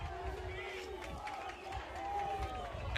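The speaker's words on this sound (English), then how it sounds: "And the crowd thrilled with it." Crowd noise at a women's C4 grand final football match in Ellenbrook, a steady murmur of spectators with bursts of cheering under a commentator's continuous talk.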